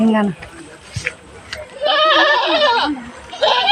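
Goats bleat several times as a herd is driven home in a village, the calls overlapping with a woman's and children's voices, with a louder burst of bleating in the second half.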